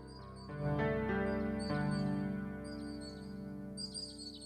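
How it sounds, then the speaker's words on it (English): Bright chirping nightingale song in a video game, short trilled phrases repeating high above a steady, low musical drone that swells early and fades slowly. "A nightingale perches on a high branch of the tree. She sings the most beautiful song"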